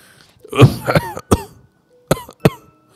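A voice imitates a person coughing: a few raspy, close coughs in quick succession, then a pause and two more short coughs.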